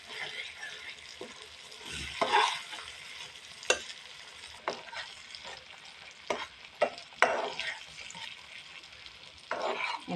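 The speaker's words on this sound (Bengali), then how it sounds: "এখন ভালো করে মিশিয়ে নিচ্ছি" Potatoes and boiled lentils being stirred in a pan, soft sizzling with repeated scraping and clinking strokes of a spoon at irregular intervals.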